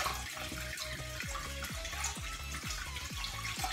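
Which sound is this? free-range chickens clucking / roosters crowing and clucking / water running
water running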